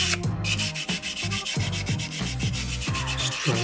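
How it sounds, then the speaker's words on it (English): Sandpaper rubbing over a small soapstone eagle carving in tight, hard-to-reach grooves, heard as steady back-and-forth scraping strokes close up, with music playing throughout. "Tucking my sandpaper in those hard to reach areas where my finger doesn't reach."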